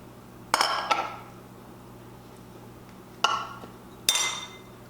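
A spoon clinks and scrapes against a pot of chili ingredients as they are stirred together: a cluster of sharp metallic knocks near the start, then two more separate clanks later, over a quiet kitchen background.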